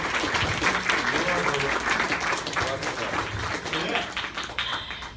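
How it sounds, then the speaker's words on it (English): Steady applause from an audience at a fashion showcase fills the room, continuous clapping that runs throughout with voices mixed in underneath. "today we will get the round of applause for that"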